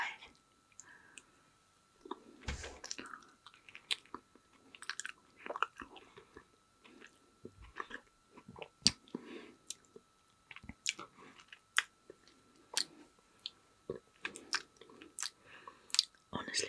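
Soft, sticky chewing and biting of a passion fruit sorbet mochi ice cream, close-miked and quiet, with irregular wet clicks and squishes spread throughout and occasional mouth sounds between bites.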